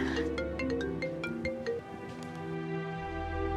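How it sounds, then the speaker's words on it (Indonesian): A phone ringtone plays a bright, repeating electronic melody of stepped tones at close range. It rings on loud and steady with no talking over it. "Gue angkat telepon bentar ya."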